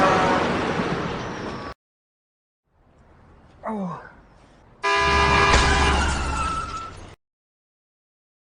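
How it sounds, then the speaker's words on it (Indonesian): Car speeding in a dramatic film scene: a loud burst of traffic and engine noise, a quiet gap with faint rustling and a brief swooping sound, then a second loud blare of sustained horn-like tones and engine roar. "namun tanpa diduga sebuah mobil datang melaju dengan kencang."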